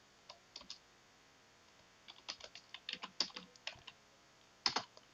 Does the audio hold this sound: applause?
no